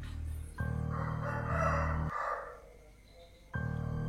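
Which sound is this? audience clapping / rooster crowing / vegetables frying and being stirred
rooster crowing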